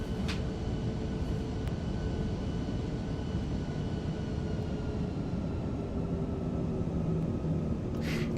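Steady, continuous airliner engine roar from an Airbus A340 after touchdown in Microsoft Flight Simulator 2024, a broad unbroken drone running the whole stretch with no voices.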